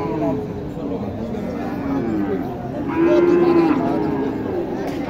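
A young Sahiwal heifer moos at a busy cattle market in Naogaon, with a drawn-out low call standing over the crowd's chatter and nearby talk.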